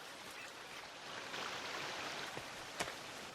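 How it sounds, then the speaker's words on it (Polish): A steady broadband rush of falling water from a waterfall in the video game The Forest, at moderate distance, continuous and fairly quiet, with a couple of faint clicks. "Ten wodospad jednak będzie mnie trochę irytował."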